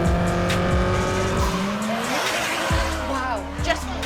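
Race cars roar past at the Goodwood Revival with sharp, sliding tire squeals and rising engine pitches, several passes overlapping in a loud, busy mix.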